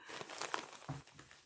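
Steel wool crinkles and rustles faintly as it is crumpled and handled by hand, a brief, close scratchy texture with small bursts.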